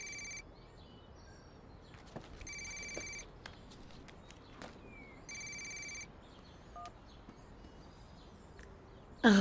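A mobile phone rings in short, repeated electronic trill bursts, moderately faint, separated by pauses, with light background noise and a few clicks between the rings.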